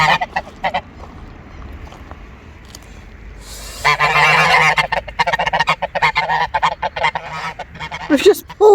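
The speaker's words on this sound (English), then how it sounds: "these geese have come running to the car, hissing like anything" A flock of geese crowds around a parked white car, hissing and then erupting into loud, rapid overlapping honks close by, with a person's voice briefly heard.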